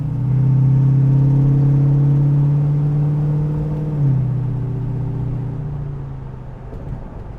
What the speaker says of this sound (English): It's got the Borla exhaust, so it just has the right tone.